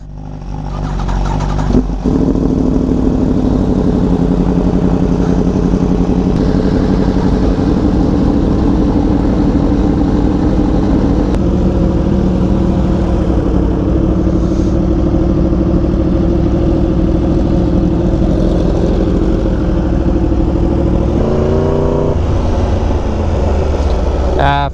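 A Yamaha R1M sport motorcycle being ridden, its engine a continuous loud drone under wind noise, with a short rise in revs near the end; a rider's voice comes and goes over it.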